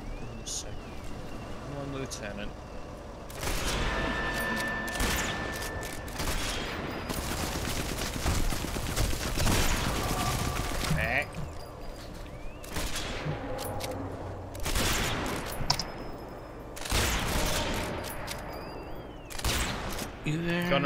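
Gunfire in the video game Sniper Elite 4 multiplayer survival, machine gun bursts and single shots popping repeatedly at moderate distance under steady conversation between players.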